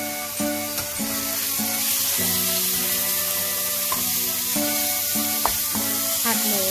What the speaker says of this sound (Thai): ผัดหมูไปเรื่อยๆจนสุกนะคะ